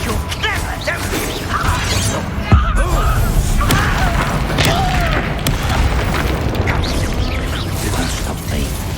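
A Confringo fire spell explodes in Hogwarts Legacy, a single sharp blast about a third of the way in, set against a steady bed of game noise and clanking effects.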